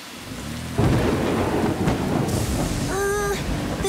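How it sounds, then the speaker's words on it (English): A thunderstorm with heavy steady rain, a sharp loud thunderclap breaking in near the start and rolling on over the downpour, with a brief tonal whine near the end. "The storm's really starting to pick up."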